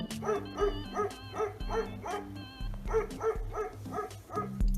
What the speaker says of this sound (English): bark for me